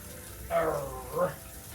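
Tap water running briefly for hand washing in a kitchen, a soft gushing stream that swells twice, faint and close.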